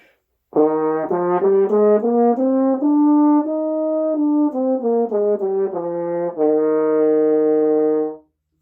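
A French horn plays a sequence of clear, full notes, stepping up and down in pitch with short breaks between phrases, ending on a held tone.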